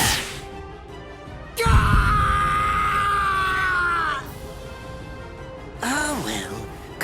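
A man screams and groans in pain in Bleach: Rebirth of Souls, a loud sustained anguished cry followed by shorter strained yelps, with game effects and whooshes around it.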